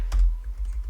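Several quick keystrokes on a computer keyboard, one sharper press followed by softer taps in a short burst, close and clear with no talking.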